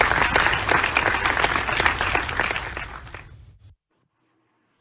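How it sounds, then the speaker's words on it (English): Warm applause from the audience at a national research summit welcoming a professor, many hands clapping steadily for over three seconds before fading and cutting to silence. "Let us give her also a warm round of applause."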